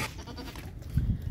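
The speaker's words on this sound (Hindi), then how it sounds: "और बिल्कुल यंग बकरी है" Young goat of the Agra breed bleating near a female kid, a short low bleat rising toward the end of the clip amid farmyard background noise.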